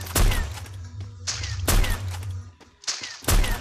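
Sniper rifle gunfire in a video game: three loud, booming shots roughly a second and a half apart, each with a rumbling tail, close and dominant with no talk over them.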